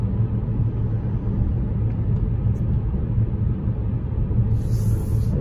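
Steady low engine and road rumble from a 2022 Jeep Compass Longitude T270 gasoline car cruising on a highway, heard from inside the cabin as a constant drone with no talk.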